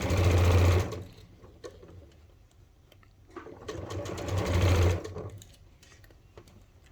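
A sewing machine stitches around the curved edge of a fabric bucket hat in two loud bursts, a steady motor whir separated by a quieter pause with faint handling clicks.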